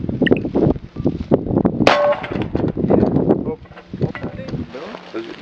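One sharp, loud single shot from a Kalashnikov rifle cracks out midway through, surrounded by ongoing conversation and some wind rumble.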